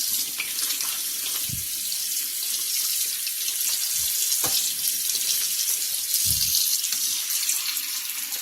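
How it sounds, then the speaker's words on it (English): Hot water runs steadily from a sink faucet into a stoppered basin, a continuous close splashing hiss with a few brief knocks, no talking. "Let that hot water run."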